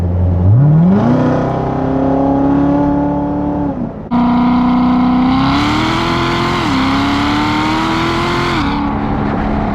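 A boosted Honda engine roars loudly while racing, its pitch climbing steadily through the revs, dropping sharply at a gear change, then surging and holding high again; no talking.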